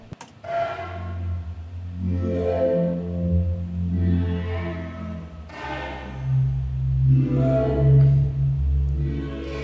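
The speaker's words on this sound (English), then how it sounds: "the third pad sounds like this" Warm synth pad in a beat, sustaining thick low chords that swell and shift through a few slow changes, loud and steady with no voices.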